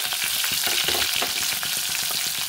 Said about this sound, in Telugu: ఆవాలు, జీలకర్ర ఇలా అది కొంచెం చిటిపట్లు ఆడేటప్పుడు